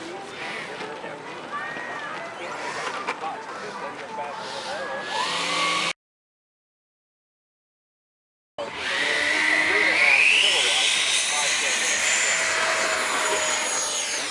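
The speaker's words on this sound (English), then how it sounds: "How do you like that electric jet, Jimmy?" An electric model jet, a JTM T-45 on a Stumax fan, makes a steady high-pitched whine as it passes on a speed run at an E-Jets event, loud and continuous, broken by a short gap, with voices in the background.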